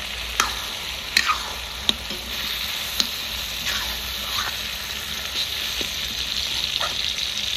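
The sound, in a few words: mutton frying in oil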